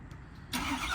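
A 2018 Ford F-550 crew cab diesel mechanics truck starts by remote start: a quiet lead-in, then the engine catches suddenly and rumbles loudly close by.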